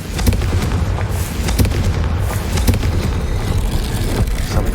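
A Confringo spell explosion in the video game Hogwarts Legacy, a dense booming blast with crackling bursts and rumbling aftershocks continuing loudly throughout.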